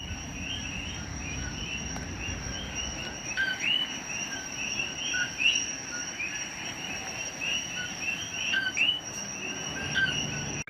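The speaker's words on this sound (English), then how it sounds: "They're called coquis. Yeah, at night in Puerto Rico, they have a very loud call." Coqui frogs call at night in Puerto Rico, a dense, steady chorus of high chirping whistles repeating from several directions over a low background rumble, with no talk.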